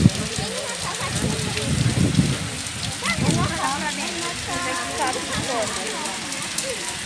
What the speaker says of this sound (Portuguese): Tá caindo o chorão violento lá fora.